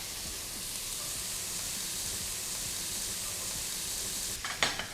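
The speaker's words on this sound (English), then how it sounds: "We're going to saute this until it's nice and fragrant and until the onion becomes translucent" Sliced onion, chopped garlic and grated ginger sauté in a pan for quinoa chicken biryani, giving a steady, loud, close sizzle throughout, with a brief clatter of stirring near the end.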